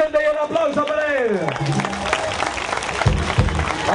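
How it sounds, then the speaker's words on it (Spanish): A rally crowd in Pucallpa applauds candidate Alex Navarro, clapping and cheering under a loud amplified voice that keeps talking over the noise. "un aplauso para él"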